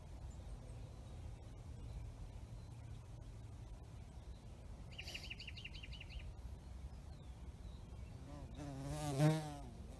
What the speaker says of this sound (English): A bee seems to operate like a fucking helicopter.